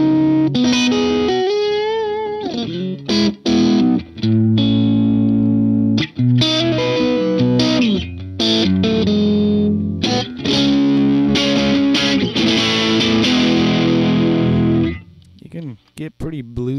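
A vintage Boss DS-1 distortion pedal on a Stratocaster plays a bluesy run of notes and bends, loud and gritty, ringing out before fading at the end.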